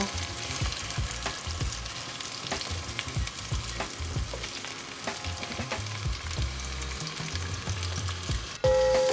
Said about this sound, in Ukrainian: Ми закидуємо туди грудинку і її нам треба обсмажити.